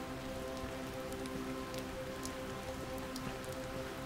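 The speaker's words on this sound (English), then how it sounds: "The rain started just as we began climbing elevation on our way to tonight's destination" Steady rain patters through a New Zealand rainforest on the Milford Track hike, a dense, even hiss with scattered nearby drips and no voices.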